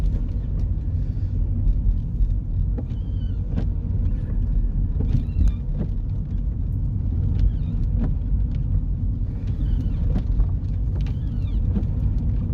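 A car driving around Cullercoats, Hillheads, heard as a steady low road rumble and engine drone from inside the vehicle, continuous throughout with faint occasional knocks and no voices.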